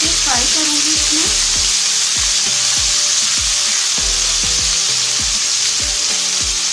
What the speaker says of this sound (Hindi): अच्छे तरीके से फ्राई करूंगी इसमें।